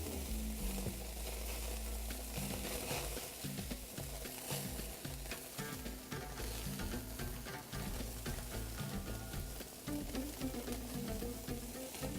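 Halloumi cheese sizzling on a very hot grill, a dense, continuous frying hiss with faint crackles, fairly quiet and steady throughout with no voices.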